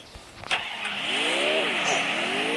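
A video game car engine starts and climbs in pitch as it revs, holding a steady drone with a short knock near the start, with talk faint underneath.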